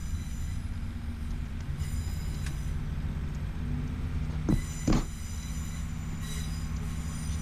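A British Rail Class 390 electric train in a train simulator game runs steadily on the West Coast Main Line, a continuous low rumble with brief wheel squeal partway through, no talking.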